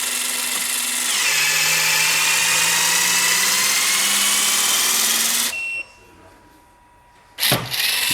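A HYTORC center lock tool backs off the wheel nut on a Porsche GT3RS with a loud, steady whine that holds for about five seconds, rising slightly in pitch. It then cuts out to near silence before a short burst near the end.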